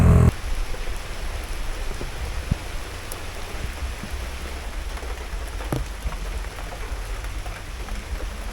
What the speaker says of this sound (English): it was a rain stop before, but looks like there's no way to get out of the rain